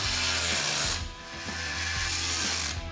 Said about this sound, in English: I'm gonna bolt headers on it and start hooking things up in it.